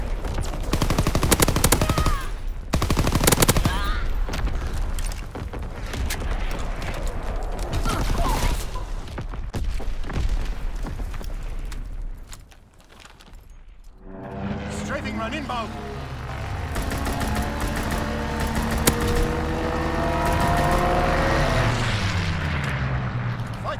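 Heavy artillery fire in a video game booms and rumbles in dense, loud bursts mixed with rattling gunfire, then gives way to a sustained engine-like drone and tonal effects.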